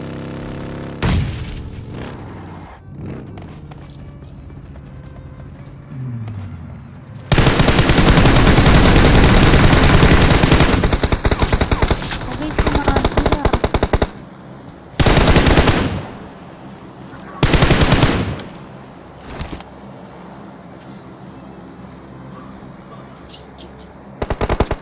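Heavy automatic gunfire from the BGMI battle royale video game, with long sustained bursts and several shorter rattling volleys breaking through a constant background hum of game ambience.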